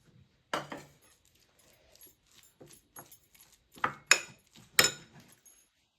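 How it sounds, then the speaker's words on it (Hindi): Spice masala for stuffed okra being mixed in a bowl, with irregular clinks and scrapes of a spoon against metal, a few sharper knocks standing out near the end. "इस मसाले को आप एकदम अच्छे से मिक्स कर लीजिए"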